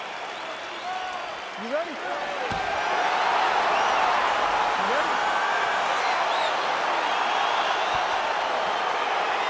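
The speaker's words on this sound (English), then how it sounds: "crowd getting excited as this fight gets underway" A virtual arena crowd in EA Sports UFC 4 swells into a steady roar of cheering as the fight begins, with a referee's voice briefly heard over it.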